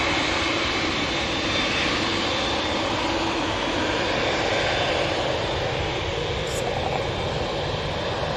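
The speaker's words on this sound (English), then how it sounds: "Let's see the Dreamliner. It's going to be going to Gran Canaria" At Manchester Airport, a Boeing Dreamliner's engines produce a continuous, moderately loud jet roar with a broad, even hiss that holds steady for the whole span.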